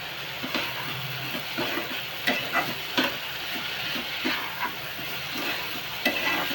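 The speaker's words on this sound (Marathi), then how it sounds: "चांगली परतून घ्यायची फणस बी." Jackfruit seeds sautéed in a pan, a steady sizzle and frying hiss with repeated scraping stirs of a spatula at a loose rhythm, close and moderately loud, with no voices.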